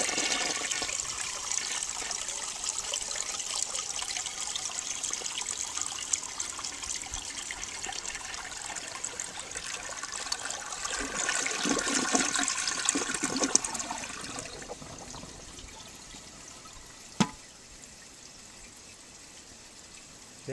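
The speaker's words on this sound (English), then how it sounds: "Okay, another flush without detergent." A 1970 American Standard Cadet toilet flushes without detergent, a loud rushing gush of water that swirls and drains, then fades into a softer trickle of refilling with a brief sharp click near the end.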